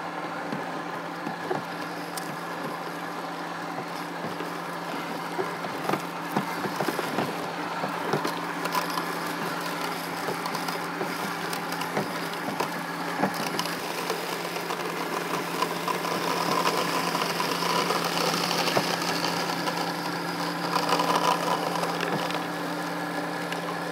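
A Hookii Neomow X robot mower mows a grass strip on a hill with a steady, moderate motor hum and faint cutting noise throughout, plus occasional small knocks.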